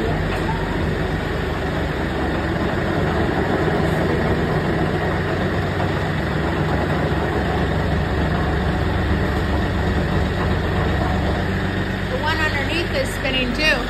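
Tractor engine running with the PTO engaged to drive a Normand hybrid snowblower, a steady loud low rumble and mechanical drone throughout, with a voice talking over it.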